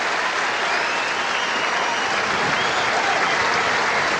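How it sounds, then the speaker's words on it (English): A tennis crowd at a 1985 Stratton Mountain semifinal stands, applauding and cheering in a loud, dense, continuous roar of clapping that holds steady throughout. "just look at the crowd, all standing up, cheering"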